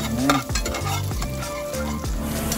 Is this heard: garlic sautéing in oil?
yes